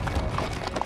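Horses walk on a dirt riding trail in Griffith Park, Los Angeles, and their hooves give a brief run of quick, close clip-clop beats over a steady outdoor background.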